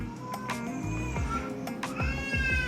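A cat meows and cries repeatedly in a workshop where a model Porsche 911 GT3 RS is being clear-coated, several drawn-out wavering calls over a steady background hum.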